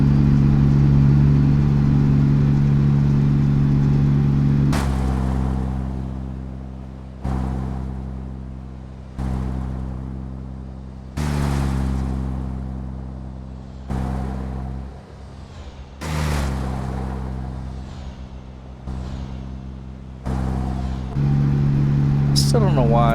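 A modded Cat 3406e diesel engine drones loud and steady on a Peterbilt 389 log truck in American Truck Simulator, its pitch dropping and climbing through repeated gear shifts with abrupt breaks between pulls.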